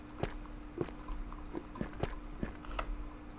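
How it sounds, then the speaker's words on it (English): Footsteps in the Minecraft video game: about seven evenly spaced, soft thuds at a walking pace, close and fairly quiet over a low steady background hum. "I swear I keep hearing footsteps that are not mine."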